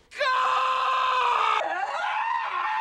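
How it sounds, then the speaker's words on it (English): A loud, sustained human scream, a movie clip from Home Alone played back from a novelty garden gnome, holding steady and then dropping in pitch partway through before trailing on, with no talk over it. "we ended up going with this clip from Home Alone"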